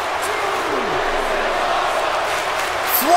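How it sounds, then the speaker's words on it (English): A WWE 2K WrestleMania arena crowd cheers and roars in a steady, distant wash of noise, with a swooping whistle-like tone rising near the end. "The crowd's digging this matchup to start WrestleMania in a big way."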